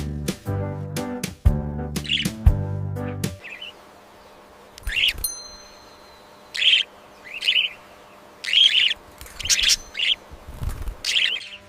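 Pet budgies chirp in short bursts of bright, high tweets, following a few seconds of music at the start, with a steady low hum beneath; the calls are fairly close and come in repeated clusters.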